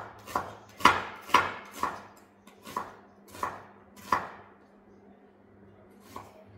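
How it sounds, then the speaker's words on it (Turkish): Onions chopped on a board with a knife, about nine crisp knocks at an uneven pace, close by and clear, tapering off toward the end with no talk. "2 soğan doğrayacağım"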